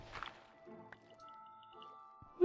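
Soft watery drips and liquid squishes in the Minecraft video game, with a brief wet burst near the start, then faint scattered dribbles over a quiet tonal background.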